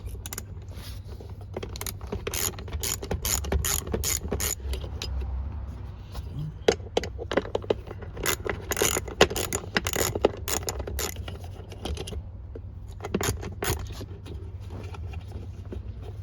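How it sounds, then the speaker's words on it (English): A ratchet and socket work on the screws of a 2005-2009 Ford Mustang armrest inside the car, with rapid close clicking and metallic jangling in bursts over a steady low hum. "you're going to need a socket and a ratchet"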